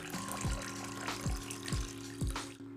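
Water pours steadily from a big red container into a kitchen gadget, a continuous splashing flow with a few low gurgling pulses, close and alone.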